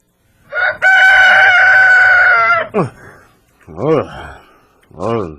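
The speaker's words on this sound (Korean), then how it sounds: "닭이 우는 거 보니까 벌써 아침이 됐구만." A rooster crows once in a long, loud, drawn-out call near a small mountain temple at dawn, followed by someone speaking in short bursts.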